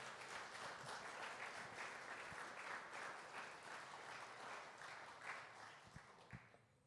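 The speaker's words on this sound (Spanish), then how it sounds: "De un aplauso al Señor en esta mañana." A church congregation at a morning service gives a sustained round of applause to the Lord, a steady, dense wash of clapping that tapers off near the end and sounds distant and faint.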